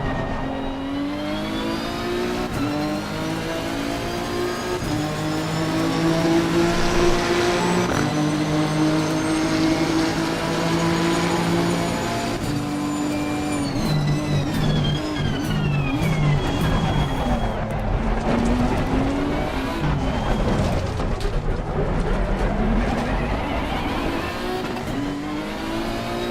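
Race car engines in Assetto Corsa Competizione roar loudly and continuously, revs climbing and dropping through gear changes as other cars run close by.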